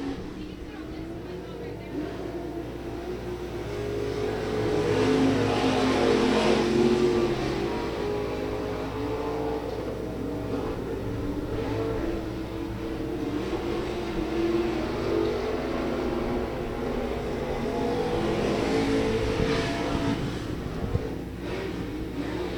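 Race cars circling a speedway oval, a dense rumbling engine drone that swells and fades as the pack passes, under steady commentary talk throughout.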